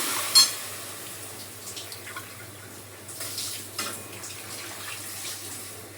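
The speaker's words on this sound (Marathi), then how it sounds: "आता इथे पाणी टाकायचं" Water pours into a cooking pan of sautéed vegetables, a faint, steady running trickle with a few soft splashes at the start, low in level throughout.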